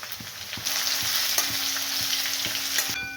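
Onion, ginger-garlic paste and curry leaves frying in oil in a pan, a bright continuous sizzle with rhythmic spatula scrapes every half second or so, close and steady.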